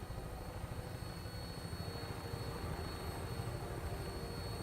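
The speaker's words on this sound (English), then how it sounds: "Dude, how long you been flying vertibirds?" Vertibird aircraft flying in the video game Fallout 4, a steady droning rotor and engine rumble with a constant whine, even and unbroken, with no voices.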